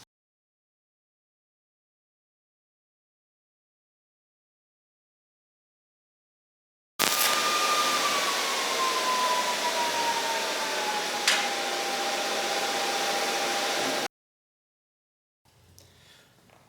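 A Miller Multimatic 220 welder runs a weld bead for about seven seconds: a steady, fairly loud hissing arc that starts and stops abruptly, with silence before and after.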